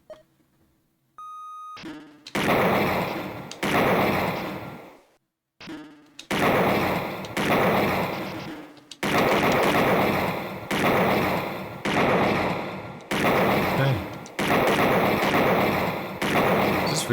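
In the video game Snatcher, a beep precedes a series of loud, punchy shots at a shooting range. About a dozen evenly spaced bursts each ring out and fade before the next, close and alone.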